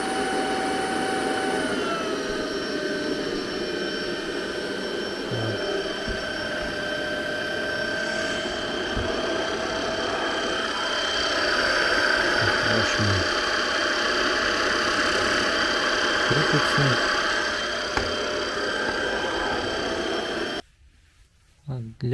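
A household vacuum cleaner runs nearby with a steady, loud whirring whine and a low motor rumble for about twenty seconds, then cuts off abruptly near the end while someone talks over it.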